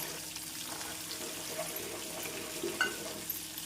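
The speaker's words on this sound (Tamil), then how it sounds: "நாம் வெங்காயம் பூண்டை நன்றாக வதக்க வேண்டும்" A steady hiss of onion and garlic sizzling and sautéing in oil for okra curry, with faint scraping and stirring sounds, close up and without speech.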